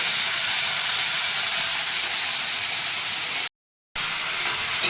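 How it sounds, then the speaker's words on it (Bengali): Shrimp frying in a pan, a dense, even sizzling hiss close by that stops dead for about half a second near the end and then comes back, with no talk. "এই চিংড়ি মাছগুলো ভাজা হচ্ছে।"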